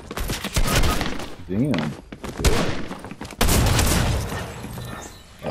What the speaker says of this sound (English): He got that pump shotgun too